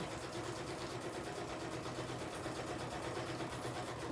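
A sewing machine stitching fabric runs in a steady, fast mechanical whir with even rhythmic ticking, fairly faint and continuous with no talking.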